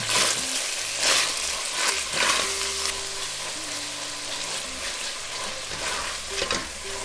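Octopus and cut cherry tomatoes sizzle and crackle in a hot pan for an octopus ragù while a utensil stirs and scrapes through them, steady and close, with no talking.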